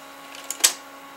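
A Sony U-matic BVU800 tape deck's threading mechanism makes a single quick mechanical whir and clunk, with a fainter click just before it, in an otherwise quiet room.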